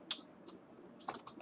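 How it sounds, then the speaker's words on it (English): Faint keystrokes on a computer keyboard while building a website header, a few scattered taps then a short quick burst near the end, close and quiet with no talking. "So I'm just going to type over here"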